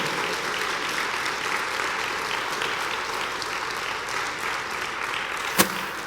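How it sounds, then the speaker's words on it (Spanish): A church congregation claps in a strong, sustained round of applause as a dense, even wash of clapping at steady loudness, with one sharp louder clap near the end. "Dale un fuerte aplauso al Señor"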